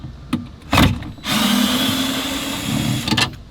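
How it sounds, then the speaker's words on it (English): A power driver whirs in short bursts, then runs steadily, backing T20 screws out of the subwoofer enclosure in a 2023 Ford Bronco; loud and close, with no talking. "So this is T20, 4 screws. I'll take the 2 bottom ones out first."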